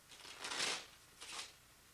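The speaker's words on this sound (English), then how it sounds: "the deck is now set, and I'm going to begin shuffling." Deck of playing cards being riffle-shuffled twice on a table, a longer crisp flutter followed by a shorter one, soft and close with no talking.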